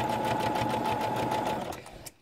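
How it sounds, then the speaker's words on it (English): A sewing machine runs steadily while stitching down the side of a knit shirt, a continuous close whir with a faint tapping pulse that slows and stops near the end. "And keep on sewing down this side."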